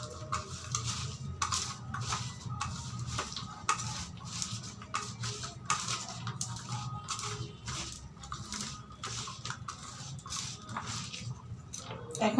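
Chopped onion and tomato worked together with salt by hand in a bowl, giving a steady run of soft, close squelching and patting with small clicks against the dish, with no talk.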